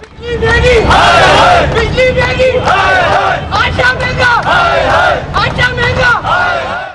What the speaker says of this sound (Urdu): حکومت مخالف نعرے لگائے